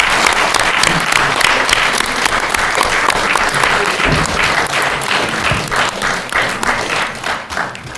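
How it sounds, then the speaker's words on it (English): A hall audience at a National Assembly election hustings in Merthyr Tydfil and Rhymney claps loudly and continuously, a close, dense wash of many hands with occasional thumps, easing only slightly near the end. "If you'd like to join me in a round of applause."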